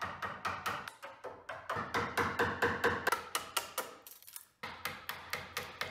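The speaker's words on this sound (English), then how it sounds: "Take a hammer and a chisel to take off the bark." A hammer drives a chisel to strip bark from a walnut slab, sharp close metallic taps in a steady rhythm of about three per second, with one short pause before the strikes resume.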